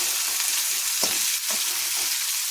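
Tomatoes frying in a pan with browned onion for a potato bhaji, a continuous close sizzle with a couple of soft stirring scrapes.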